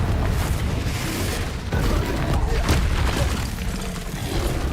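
Confringo blasting-spell explosions in Hogwarts Legacy, a dense, continuous roar of booms and bursting blasts with loud low rumble throughout.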